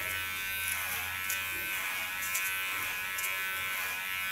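A Kiona cordless electric hair clipper cutting hair, a constant close, low motor buzz with faint snipping crackles and small changes in pitch as the blades pass through the hair.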